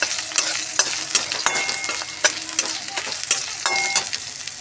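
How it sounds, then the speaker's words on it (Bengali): Grated ginger frying in oil with bay leaf for a Bengali bitter-gourd dal: a continuous sizzle broken by regular sharp scrapes and knocks of a spoon stirring in the pan, close and fairly loud. "আদাটা ভালো করে ভেজে নিই তেলের সাথে।"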